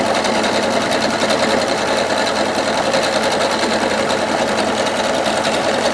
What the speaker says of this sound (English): now it's actually stitching right on top of the hem right now